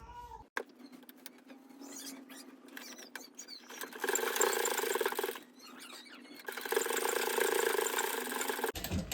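A sewing machine stitching fabric, starting after a brief pause and running in two bursts of steady mechanical whirring and needle clatter, close and moderately loud.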